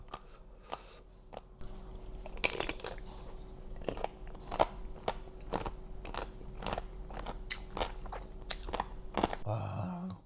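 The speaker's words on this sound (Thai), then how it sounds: "มันกรอบมากแล้วมันไม่มีรสชาตินะครับทุกคนแต่แบบกรอบมาก" Crunchy bullet jellyfish is bitten and chewed up close, with a loud crisp crunch followed by a steady run of repeated crackling chews over a faint hum.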